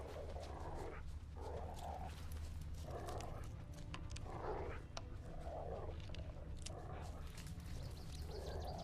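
A dog named Hussar in The Witcher 3 video game, barking in repeated short bursts at a roughly regular rhythm over a low ambient game hum, with quiet speech-like sounds mixed in.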